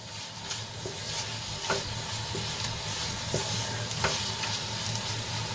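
Okra coated in a peanut and sesame masala cooks in a pan with a steady low sizzle, while a spoon stirs it in periodic scraping strokes, close and even, without speech.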